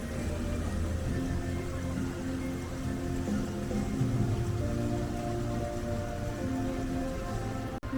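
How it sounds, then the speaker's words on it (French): Rain falls steadily at a theme park, a dense even patter on surfaces that holds for the whole stretch, with no voices. "il pleut"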